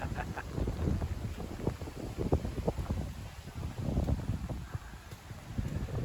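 Strong wind buffets a microphone on a rainy, wet beach in Alcudia, producing loud, uneven low rumbling gusts that swell and fade continuously with no voices.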